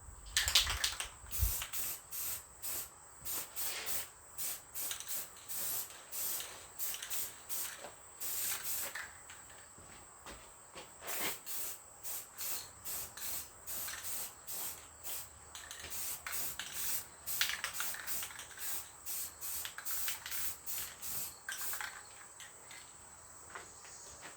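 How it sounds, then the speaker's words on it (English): Spray primer hisses onto a tractor motor mount in a steady series of short, rhythmic bursts with brief gaps, close and fairly loud, with no talking. "Now we're going to hit it with some primer."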